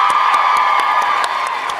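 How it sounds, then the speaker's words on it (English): A large audience at a young women's leadership summit cheers and whoops loudly, a continuous roar of voices with scattered claps punctuating it throughout. "A round of applause for her."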